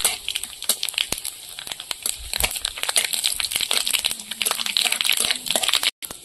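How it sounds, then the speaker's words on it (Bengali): Dried chillies and whole mustard seeds sizzle in hot oil in a wok, giving dense, close crackling and spitting pops that run continuously, with a brief break near the end. "তেলে শুকনো লঙ্কা কেটে দিয়েছি, লঙ্কাটা একটু লাল করে ভেজে নেব"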